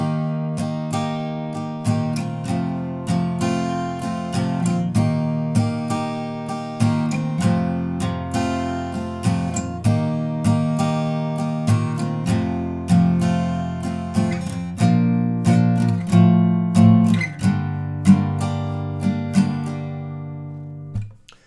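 Acoustic guitar strums opening chords in a steady rhythmic pattern, ringing sustained notes, played alone without any talking.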